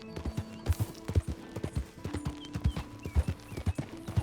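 Horse hooves clip-clop in a steady trotting rhythm in Red Dead Redemption 2, with a brief whinny, close and clear, alongside faint game ambience and no talking.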